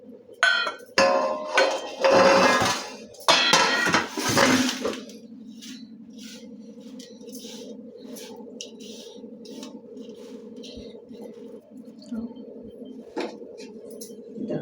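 A spoon scrapes and clinks in a metal pan while ground dry fruits and makhana are mixed for kharik laddu, several loud close clatters early, then a steady low hum with occasional soft taps.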